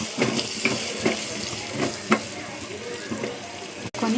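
Onions and green chillies frying in oil with cumin in a pan, a steady watery sizzle with a few scrapes and stirs close by, no voices over it.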